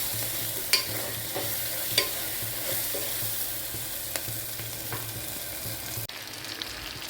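Ginger garlic paste fries in a pan for mutton paya, giving a steady close sizzle with occasional sharp clicks of stirring, with no voices.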